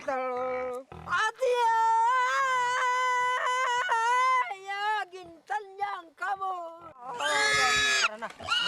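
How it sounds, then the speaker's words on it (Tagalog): A live pig squeals loudly and almost continuously before a ritual offering at an Aeta burial, with piercing, wavering high cries and grunts and a harsh scream near the end. "inialay ang dugo ng buhay na baboy para sa kaluluwa ni Panmilisya"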